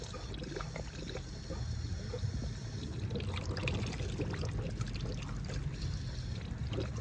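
Water gushes and splashes out of a 1995 Ford F-150 heater core being flushed, in a steady stream with some gurgling and spattering, continuous and fairly close.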